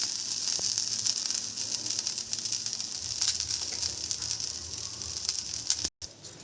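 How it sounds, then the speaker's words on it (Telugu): Drumstick (moringa) leaves frying in a pan, a soft continuous sizzle and hiss with faint crackles, steady at low level with a brief dropout near the end. "దీన్ని బాగా వేపుకోవాలి"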